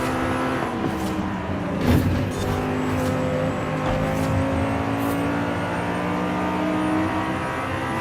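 A McLaren 720 GTR in the racing game Forza Horizon 5 roars loudly and continuously at speed while passing other cars, its engine note rising and surging.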